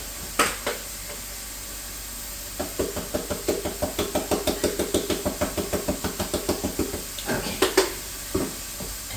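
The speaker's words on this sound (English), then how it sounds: "Give it a stir" A spoon stirs a cornbread stuffing casserole mixture in a bowl, producing a steady run of close, rhythmic knocking scrapes, about two or three per second, with a few heavier clunks near the start and end.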